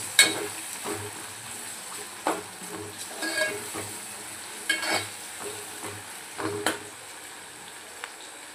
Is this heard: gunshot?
no